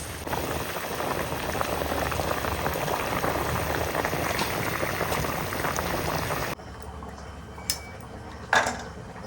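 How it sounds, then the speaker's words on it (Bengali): Fish curry bubbles in a pot with a dense, steady simmer for about six seconds, then drops to a quieter hiss with a couple of faint clinks near the end. "মাছের ঝোল ফুটে গেছে"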